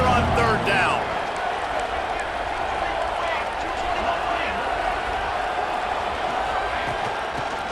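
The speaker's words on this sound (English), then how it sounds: "This Boise State crowd bringing the noise. It's deafening here on third down." Steady roar of a packed stadium crowd at a Boise State home game in EA Sports College Football 26, loud and continuous on a third down, with a commentator talking over it.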